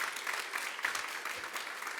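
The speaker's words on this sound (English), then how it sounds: "you would really give her a round of applause." Audience applause at a motivational speaker's event at George Mason University: a short, steady burst of clapping from a crowd in a hall, with no talking over it.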